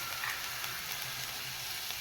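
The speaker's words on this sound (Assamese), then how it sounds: "আদা নহৰুখিনি মই ভালকৈ ভাজিম, তেতিয়ালৈ ৰঙচুৱা হ'ব" Chopped ginger and garlic fry in hot oil in a pan, a steady, even sizzle that is close and continuous, with no talking.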